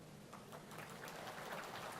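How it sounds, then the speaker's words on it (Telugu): An audience at a political party's parliamentary committee workshop opening claps scattered and faintly in a hall, with a soft, patter-like texture that swells slightly toward the end. "సగమే చప్పట్లు కొట్టారు, ఇంకా సగం కొట్లా."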